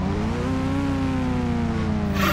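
A loud, steady engine drone holds one pitch and rises slightly near the end, a motorbike engine in the video game GTA, with no talk.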